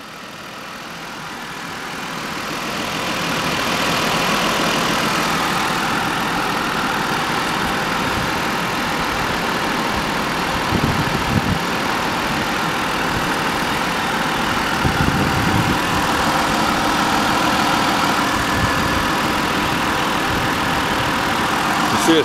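An AC unit being charged with Freon runs with a steady broadband mechanical roar and hum once its pumps kick on, loud and close, rising in the first few seconds and then holding level with faint clanks.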